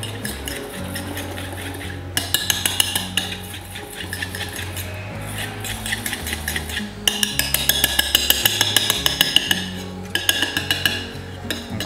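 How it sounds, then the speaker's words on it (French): A utensil clinking against a bowl while pistachio paste is folded into whipped egg whites for a pistachio and citrus entremet, with bursts of quick light taps over a steady low musical background. "vais juste mélanger ma pâte de pistache à l'intérieur"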